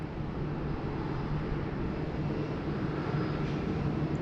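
An airliner taxies slowly at Sydney Airport toward holding point Alpha 1 for a runway 16 right departure, a steady low engine drone with a faint hum, distant and unchanging, with no talking.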